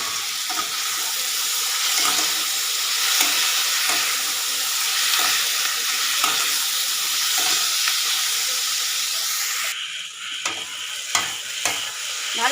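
Green chillies fry in a pan with a steady loud sizzle while a utensil scrapes and stirs in irregular strokes; toward the end the sizzle thins and a few sharper clinks stand out.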